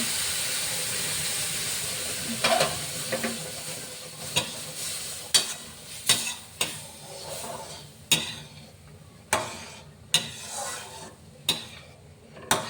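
Sugar syrup poured into browned fried semolina sizzles and hisses steadily, with sharp scraping strokes of a spoon stirring at irregular intervals, close and fairly loud, no talking.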